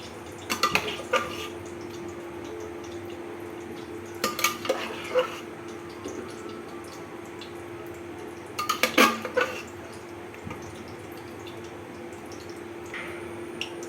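Ladle scraping and clinking against a pot while sago khichuri with dal and vegetables is stirred over a low gas flame, three short bursts of stirring separated by quiet simmering gaps, no talking.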